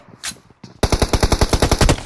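Rapid automatic gunfire in the BGMI battle royale game: a couple of isolated shots, then a loud, steady burst of about a dozen evenly spaced rounds, close and alone.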